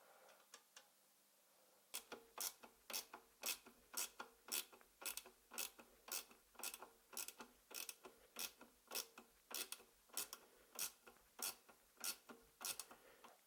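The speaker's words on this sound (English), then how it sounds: "And secure the bolt with the nut." A hand ratchet clicks in a steady, rapid series of sharp ratcheting strokes, tightening a nut onto a bolt while assembling a 500W 24V Gepard electric dirt bike, close and clear with no talk.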